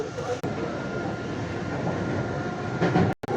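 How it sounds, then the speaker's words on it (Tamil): Inside a moving, crowded metro train, a steady loud rumble and hiss of the carriage on the rails runs throughout, with a brief dropout near the end. "ட்ரெயினில் தான் போயிட்டு இருக்கோம்."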